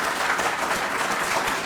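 An audience at a gathering gives volunteers a round of applause, a close, full, steady wash of many hands clapping, with no talk over it.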